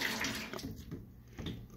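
Water rushes and splashes steadily through a reverse osmosis XLE-4040 membrane housing during a membrane change, a close, continuous flow with brief surges.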